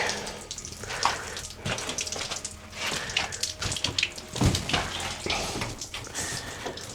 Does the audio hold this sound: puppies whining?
no